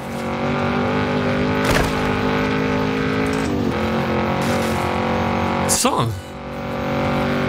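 A car driving in Fortnite on an old Xbox, with a steady engine drone and shifting revs that rise and fall, plus a few sharp knocks and a brief whooshing sweep near the end, under excited talking.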